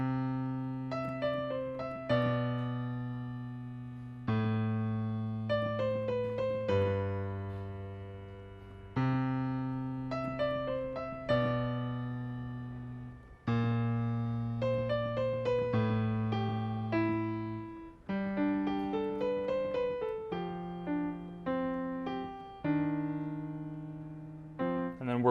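Piano playing the B section of a piece in an easy arrangement, steady bass notes under a flowing melody, moderately loud and alone with no voices.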